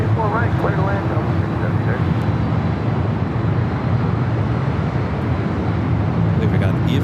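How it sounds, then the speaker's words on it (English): An EVA Air jet rolls down runway 25 Right at LAX, a steady, broad engine roar heard from a distance that holds throughout while someone talks over it. "I believe we got Eva Flight 5 heading back to Taipei, rolling down that 25 right on the south side."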